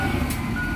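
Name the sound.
truck reversing beeps at port unloading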